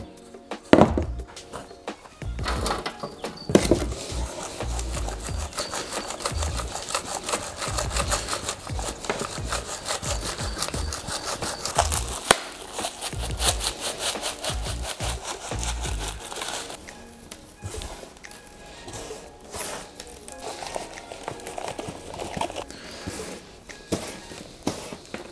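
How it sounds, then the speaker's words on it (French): Seed compost and sand are sieved through a mesh and mixed by hand, producing a long, continuous rasping and scraping with rhythmic rubbing strokes, fairly close and steady throughout. "Donc là, ce que je vais faire, je vais d'abord tamiser"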